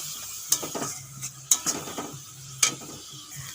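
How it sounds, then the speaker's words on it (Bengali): Tomato paste frying in a pan as a soft, steady sizzle, with a few sharp metallic clinks of a utensil against the pan at intervals, close and without speech. "এখন দিয়ে দেবো টমেটো পেস্ট আপনারা এখানে টক দইও দিতে পারেন টমেটার বদলে খুব সুন্দর করে এগুলো ভেজে নেব"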